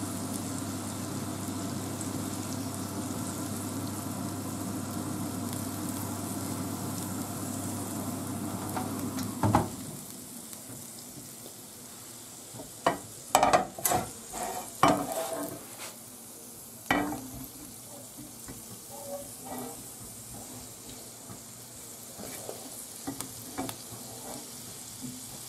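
Lacón pork sizzles steadily on a hot griddle with garlic, a dense continuous fry for the first stretch, then quieter crackle broken by sharp clattering scrapes and stirring knocks.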